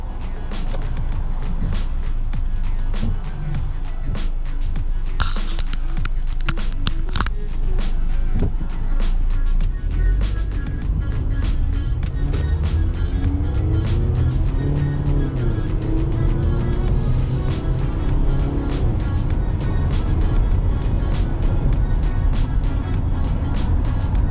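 A 2006 Toyota Camry with 279,000 miles driving and accelerating: a steady engine hum and road noise from inside the cabin, the engine rising in pitch as it picks up speed, with no talk.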